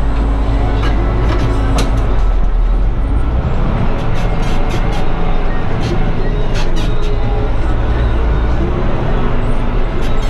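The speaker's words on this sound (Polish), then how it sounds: "ten ciągnik na razie cały czas chodzi" An old farm tractor used for hauling haylage bales, its engine running continuously at a loud, steady, close rumble throughout.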